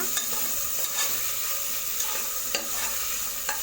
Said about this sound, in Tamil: இது கூட 2 தக்காளி பொடியாக கட் பண்ணது இதை நல்லா மிக்ஸ் பண்ணி விடுங்க